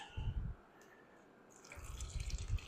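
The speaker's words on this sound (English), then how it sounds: "gently pour them in as carefully as possible" Guppies are poured with water into a fish bag, giving two short, quiet splashing and trickling bursts separated by a pause.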